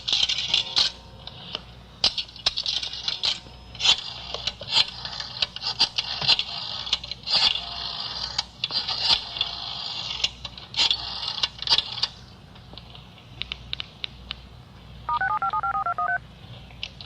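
Coin drops into a public phone booth in the back of a restaurant, followed by a run of quick dial tones and clicks, staged as a radio-drama sound effect; busy clicking and rattling throughout, then a brief two-tone beep near the end.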